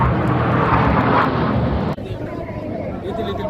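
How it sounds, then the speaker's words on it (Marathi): A formation of eight jet fighter aircraft passes over an air show in Nashik with a loud, roaring broadband rumble. The roar drops off abruptly partway through and a fainter engine wash and crowd noise continue after it. "जेट विमानांचा आवाज"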